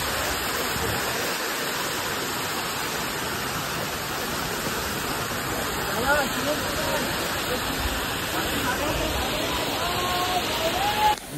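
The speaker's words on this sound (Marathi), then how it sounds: "तो वॉटरफॉल तर बघू शकता तुम्ही किती स्पीडला येतोय." A fast, roaring rush of a waterfall in heavy rain fills the scene with dense, constant noise, and a voice speaks faintly over it.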